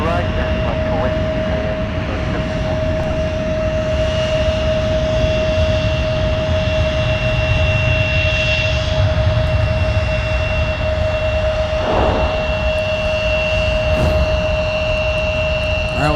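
Airbus A220 jet touching down on the south parallel runway at Minneapolis–St. Paul airport, a steady loud engine roar with a sustained whine held throughout, heard from a spotting position with faint background chatter.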